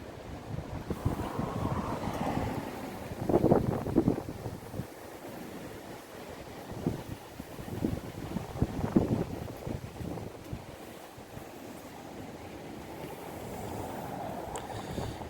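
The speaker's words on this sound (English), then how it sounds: "all the topsoil's just blown away from this wind" Strong storm wind blows across a sandy garden, a steady roaring rumble that buffets the microphone and swells in gusts throughout.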